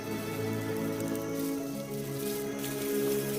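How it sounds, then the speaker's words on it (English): Rain beginning to fall in the African wild, a steady patter of drops on the ground under a dense, continuous wash of sound. "The first drops of rain trigger a remarkable event."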